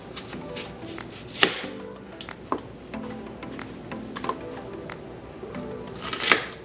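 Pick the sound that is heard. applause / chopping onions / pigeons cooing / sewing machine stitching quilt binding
chopping onions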